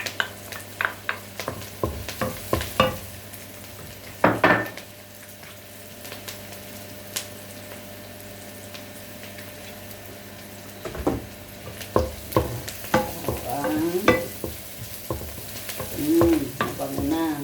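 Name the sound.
onion and garlic stir-frying in a pan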